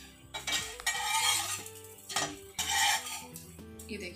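Bread pizza slid off a tawa griddle onto a plate, with scraping and clinking of metal utensil against the pan and plate in several close, uneven bursts over a few seconds, no talking.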